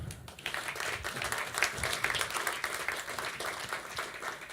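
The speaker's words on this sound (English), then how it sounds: "I would ask you now to give a really big applause to my friend Andreas." Applause from attendees at the opening session of an expert assembly in Wroclaw, a fairly close, steady patter of many hands clapping in an indoor hall, continuing evenly for several seconds with no voices on top.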